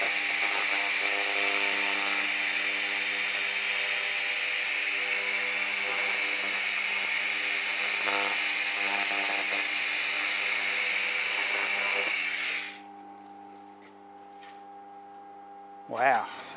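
A laser cleaner scanning over metal makes a steady, loud high-pitched whine with a constant tonal hum beneath it. After about twelve seconds it cuts out, leaving a low residual hum and a brief click.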